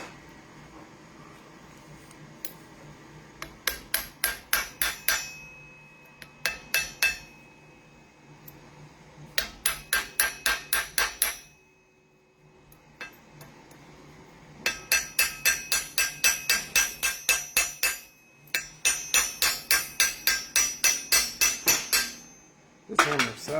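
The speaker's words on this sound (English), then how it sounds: "I'm going to use this hammer because it's handy." A hammer strikes scrap metal to shape a pre-formed ring, ringing metallic blows in fast, even bursts of about ten hits separated by pauses, close and loud, with a faint steady tone in the background.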